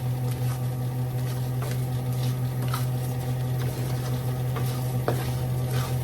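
Spanish rice being stirred and browned in a pan, with a steady low sizzle under repeated scraping and clinking of a utensil against the pan, close and continuous with no talking.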